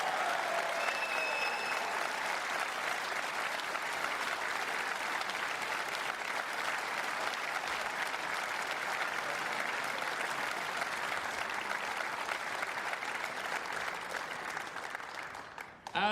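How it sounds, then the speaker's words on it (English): Sustained applause from a snooker audience for runner-up Mark Williams at the 2010 UK Championship final presentation, a dense, even roar of clapping that holds steady for about fifteen seconds before tapering off at the end. "A big round of applause, please, for Mark Williams."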